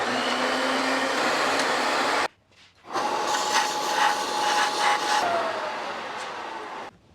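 Rebar being cut to length for welded bolt handles, a loud steady high-pitched grinding whine that stops briefly, resumes for several seconds and then trails off.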